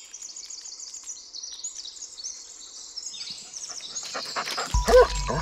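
A dog barking in the Blair Witch game, a few close barks near the end over steady outdoor birdsong and ambient forest noise.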